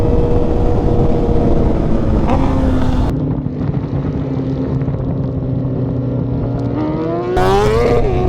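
A 2023 BMW S1000RR with a Stage 2 E85 tune roars close and loud as it accelerates with its rear wheel spinning. The engine's steady, heavy drone climbs sharply in pitch near the end, with wind buffeting throughout.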